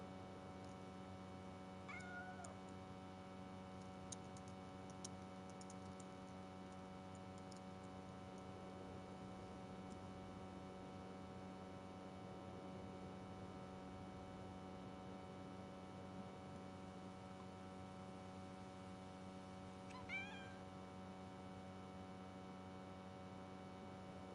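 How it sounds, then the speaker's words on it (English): A stray cat in a video game meows faintly, with a couple of short calls spaced far apart over a steady electrical hum and low background noise. "Says approach the stray cat slowly."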